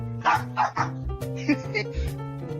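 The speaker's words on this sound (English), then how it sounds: "Me and my dog Buster really love listening to Israel News Talk Radio" A dog barks and yips several times in a radio station promo, the short, punchy barks close and loud and interleaved with a man's speech over background music.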